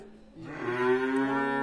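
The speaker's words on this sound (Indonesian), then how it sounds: "Ada tertarik tersendiri dengan sapi Pak Afandi yang betina" A cow, a female red Simmental, gives one long, rising moo close by, starting low and swelling in loudness, heard alone without talk.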